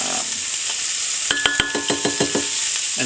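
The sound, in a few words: onions sizzling as they cook in a pan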